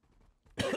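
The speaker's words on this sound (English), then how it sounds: "Oh no, I'm coughing." A single short cough bursts out after a brief moment of faint background noise, close and fairly quiet.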